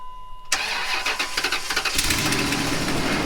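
A Ram 1500 truck's Hemi engine cranks and catches, then runs with a rough, rapid ticking puff from an exhaust leak, loud and close, rising as it revs.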